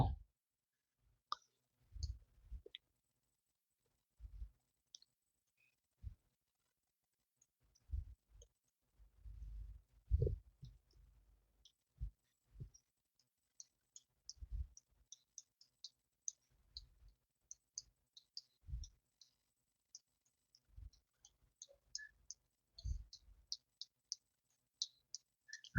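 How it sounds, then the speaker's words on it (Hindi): Keys tap on a keyboard in quiet, sparse, irregular clicks, single presses and short clusters spaced out over a long stretch of near silence. "टाइपिंग चल रहा है।"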